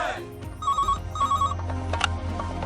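A telephone rings in two repeated electronic bursts at moderate volume, with a faint voice and background noise around it.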